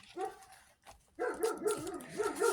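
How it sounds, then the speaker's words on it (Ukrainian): A dog barks again and again in the background indoors, bursts of yapping and barking that start and stop and keep going. "Я думала почекати, поки пес перестане гавкати, але він гавкає і гавкає"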